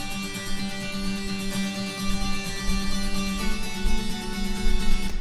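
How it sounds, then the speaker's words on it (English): A recorded guitar sample plays solo, a dense, effect-laden tone with sustained layered notes and a steady strummed pulse, loud and continuous with no voices. "I have already recorded this sample of the guitar, and it sounds like this as a solo"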